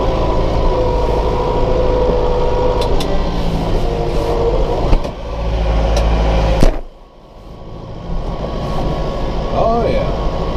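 A small John Deere 1755M tractor engine with a big grapple runs steadily and loudly at close range, its low rumble dipping briefly partway through.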